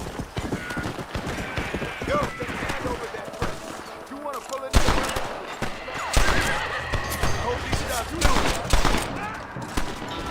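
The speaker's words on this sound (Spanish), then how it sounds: "Escucho disparos por acá." Gunfire rattles out in bursts in Red Dead Redemption on Nintendo Switch, mixed with horses whinnying and hooves clip-clopping, the shots growing louder and denser toward the end.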